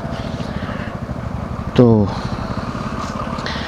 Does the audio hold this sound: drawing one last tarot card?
no